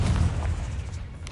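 Confringo blasting spell in Hogwarts Legacy, a deep booming explosion with a rumbling low-end roar that decays over about a second.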